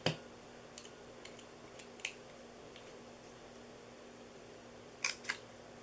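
Paper corner punch rounding the bottom corners of a paper treat bag, a few sharp crisp clicks spread apart, with a quick double snap near the end, against a quiet background.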